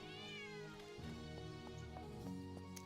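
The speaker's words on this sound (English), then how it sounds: "I think I have found the kitty." A cat in the video game Travellers Rest meows once, a close, clear and drawn-out call at the start. Quieter game sounds and light ticks follow.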